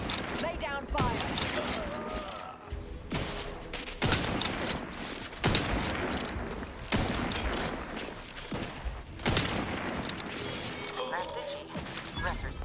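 Dense combat gunfire in The Outer Worlds 2: continuous volleys of loud shots and impacts through the whole stretch, mixed with game voices and battle noise.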